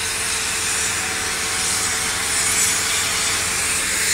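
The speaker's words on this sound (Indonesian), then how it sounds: "Itu juga masih sunblast ya, atau di amplas itu bagian bodi kapal." Sandblasting or sanding on the hull of the passenger ship KM Dorolonda in dock, a steady loud hiss that runs on without a break for the whole stretch, with no voices over it.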